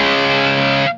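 A loud, sustained electric guitar chord through an Audiostorm Grand Classic moderate high-gain distortion pedal rings out thick and saturated for about a second, then cuts off abruptly.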